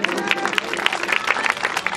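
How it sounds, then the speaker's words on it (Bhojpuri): An audience at a live Bhojpuri stage show claps, a dense, fairly loud burst of applause from a crowd that carries on evenly for a couple of seconds. "तो मैं चाहूंगा कि जोरदार ताली के लिए जरूर"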